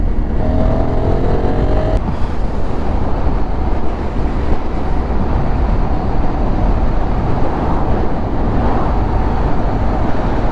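A Honda Africa Twin motorcycle rides along a road on a windy day, its engine a steady rumble under heavy wind buffeting, loud and close throughout.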